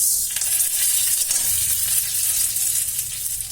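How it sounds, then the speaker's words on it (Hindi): Thick vermicelli roasting in ghee in a kadhai gives a steady, close sizzle and frying hiss for the whole stretch, with faint stirring scrapes mixed in and no voices. "इसको मैंने कढ़ाई में थोड़ा सा घी डाल दिया था, उसमें मैं इसको थोड़ा सा भून लेती हूँ"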